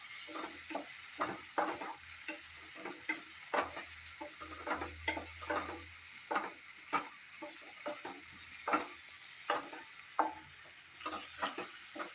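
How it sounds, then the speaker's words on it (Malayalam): Paneer sizzles quietly in hot oil throughout, with repeated scraping and tapping as a spatula stirs and turns the pieces in the pan while they crisp. "ഇത് ഞാൻ പനീർ ഒന്ന് ആ എണ്ണയിൽ ഒന്ന് മൊരിഞ്ഞോട്ടേന്ന് പറഞ്ഞിട്ടാണ് ഇപ്പോൾ ഇട്ട് കൊടുക്കുന്നത്"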